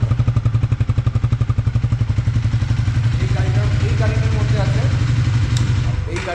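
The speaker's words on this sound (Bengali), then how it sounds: "এইটা আমাদের লিকুইড কুল ইঞ্জিন, 400 সিসির বাইক" A Triumph 400cc liquid-cooled motorcycle idling in a showroom, a loud close rhythmic engine thump that settles into a steady running rumble while people talk over it.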